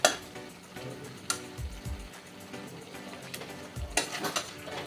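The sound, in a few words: mashing and stirring mango into the fish curry in a pan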